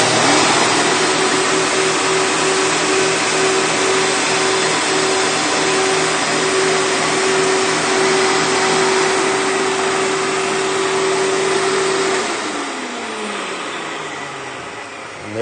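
A Kmart Preferred vacuum cleaner runs loud and close with a steady motor whine and rushing airflow, then winds down near the end with a falling pitch, with no talking over it.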